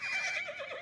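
A horse neighs in a film scene, one short, close whinny with a wavering pitch, heard alone.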